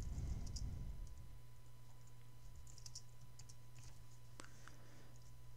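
Fingers type on a computer keyboard with sparse, faint clicks over a quiet, humming room background. Slightly louder keystrokes come in short clusters, and no one speaks.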